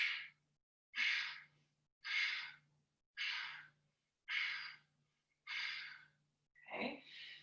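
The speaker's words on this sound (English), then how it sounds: "it'll be a breath in and then a strong exhale." Seven forceful yoga exhales pushed out through the nose, each a sharp, close breathy burst about a second apart with quiet inhales between, the last one rougher and more voiced.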